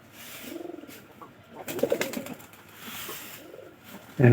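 Pigeons give soft, rolling coos at close range, with some fluttering and rustling in between and a brief bump near the end.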